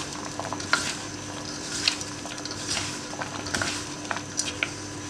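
Besan batter is stirred in a bowl with a spoon or spatula, giving soft, wet, squelching strokes and occasional light clinks at an even rhythm, fairly close and moderately quiet.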